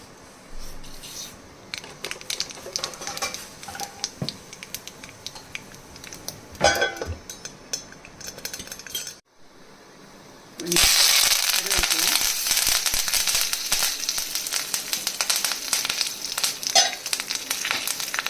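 Mustard seeds and asafoetida hit hot oil in a pan and burst into a loud, continuous sizzle after a brief hush, preceded by quieter kitchen clatter.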